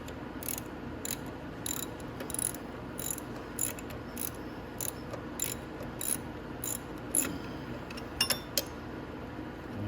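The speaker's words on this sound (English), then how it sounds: "this one is going to need a wrench on it because it's turning already" A wrench turns the shock absorber nut on a Venom X18 automatic motorcycle, making a series of quick metallic ratcheting clicks in uneven bursts. The sound is fairly quiet and close, with no speech.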